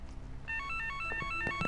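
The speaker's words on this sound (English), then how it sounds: "So is the phone here ringing?" A telephone rings in a video game, giving a short electronic ringtone-like warble that starts partway through over a quiet ambient background.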